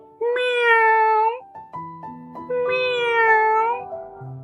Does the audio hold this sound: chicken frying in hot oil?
no